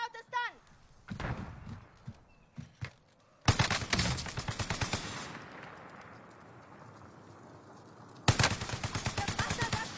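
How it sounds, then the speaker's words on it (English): Gunfire in Call of Duty: Warzone, loud rapid automatic bursts with sharp cracks, a long sustained volley followed by another after a pause, with a voice speaking briefly near the start. "The bastards are shooting at me."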